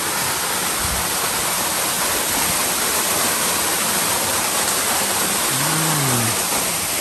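Waterfall on Mount Mitake, a loud, steady broadband roar of falling water heard close up, continuous and unbroken throughout with no voices.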